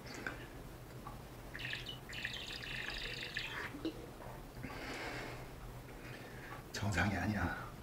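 Faint high chirping squeaks from a coffee can come in short bursts, like birdsong, over quiet background noise with some low rumbling near the end.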